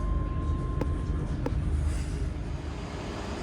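Scotrail passenger train pulling into Cardonald station in Glasgow, a steady low rumble of wheels and engine with two sharp metallic clicks early on, continuous and fairly loud with no talking.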